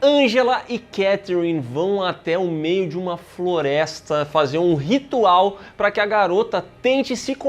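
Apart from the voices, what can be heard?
No distinct noise like a dog, phone or traffic.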